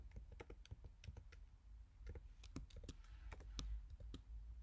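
Fingers type on a computer keyboard in a quick run of clicking keystrokes, close and steady, with short bursts and tiny gaps between presses and no voice.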